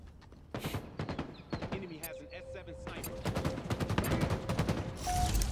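Rapid bursts of gunfire from Halo Infinite multiplayer, with sharp repeated shots in quick succession and sustained volleys building toward the end, mixed with game effects and a voice speaking over the action.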